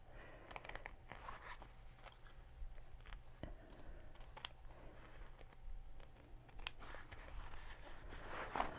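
Scissors trim backpack lining fabric in a run of small, quiet snips and crunchy cuts spread unevenly over a soft background hiss, up close and faint.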